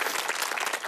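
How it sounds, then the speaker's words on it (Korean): Short round of applause from a lecture audience at a talk concert, many hands clapping in a dense, fluttering patter that stays even for under a second. "박수 한번 좀 크게 쳐주세요."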